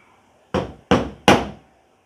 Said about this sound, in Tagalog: mas madali palang gumamit dyan ng pait at saka martilyo